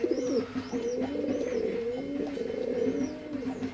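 A pair of teddy pigeons of an imported bloodline coo steadily and close by, soft repeated throaty calls overlapping with occasional higher chirps, with no talking.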